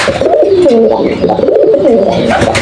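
Domestic pigeons, recently sick and not laying eggs, coo continuously in overlapping low, throaty calls, loud and close with no talking.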